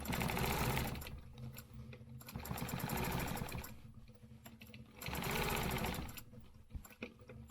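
A sewing machine stitches a quilted square in a steady whirring chatter, running in three bursts with brief slowdowns between them, close and fairly quiet.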